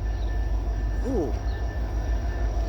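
A CSX manifest freight train arriving and preparing to stop, a steady low rumble of wheels and cars close by, with a brief squealing wheel or horn-like tonal sweep in the middle and a faint high whine throughout.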